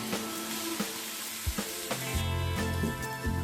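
Jackfruit pieces frying in a cooked-down spice masala, giving a steady close sizzle with occasional clinks and stirring scrapes from a utensil against the pan.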